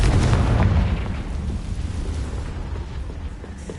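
Confringo fire spell explosion in Hogwarts Legacy, a loud, deep booming burst that decays into a rumbling roar.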